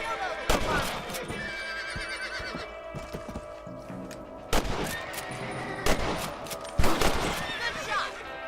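In the Red Dead Redemption video game, loud rifle shots crack out at rabbits, several sharp reports spaced seconds apart amid horse whinnies, hoofbeats and a voice.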